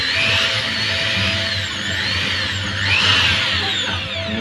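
An electric drill rated around 500 watts runs on an inverter fed by a 100Ah lithium battery pack in a 1000-watt solar power setup. It gives a steady, loud motor whine with a small shift in pitch partway through, and no speech is heard.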